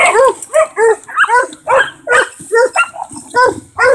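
Young dogs at an adoption shelter, including Labrador puppies and a small pit bull pup, bark and yip in quick repeated bursts, about a dozen sharp, close, loud calls with brief gaps between them.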